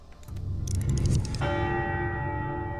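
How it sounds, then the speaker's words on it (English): A temple bell in the video game Knytt Underground rings out loud after some low rumbling, its long bright metallic tone holding and sustaining to the end. "Do I press the button to ring the bell?"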